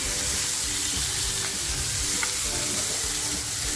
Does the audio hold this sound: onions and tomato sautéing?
yes